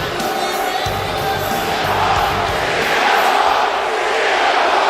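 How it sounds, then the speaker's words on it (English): A split arena crowd at a wrestling show makes a dense, loud, steady roar of mixed chanting and booing that swells slightly toward the end, with no single voice standing out. "Getting a couple of CM Punk chants with some boos."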